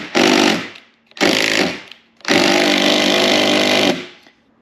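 An air impact gun tightens roof rack bolts on a 1999 Chevy Suburban, firing in three loud, close bursts: two short rattling hammers and then a longer sustained one, with brief pauses between.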